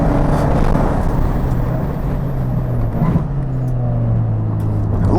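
A race car laps a driving-range circuit at the DCTC track, its engine droning loud and close throughout with a steady low tone that shifts in pitch around the gear changes.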